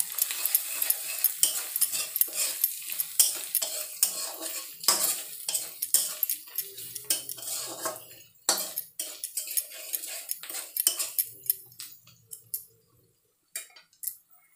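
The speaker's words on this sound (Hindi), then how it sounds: "1 बड़े चम्मच करी पाउडर, 1 छोटे चम्मच लाल मिर्च पाउडर। सबको हम अच्छे से मिक्स करेंगे।" A metal spoon stirring curry powder and red chilli powder in a pot, giving quick repeated clinks and scrapes over a light sizzle, close by, tapering into sparser taps.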